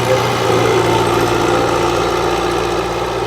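A Farmtrac 6055 tractor engine idles nearby with a steady, low, rumbling drone and slight vibration, continuous and unchanging, with no voices.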